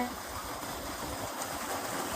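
Water streams continuously through a garden beside a land plot in Tamil Nadu, a steady close rushing wash with no breaks, while a voice may murmur faintly underneath.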